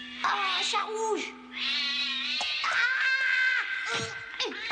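A red cartoon cat meows and wails in a series of drawn-out, strained cries, loud and close, with overlapping voices and a steady tone beneath them.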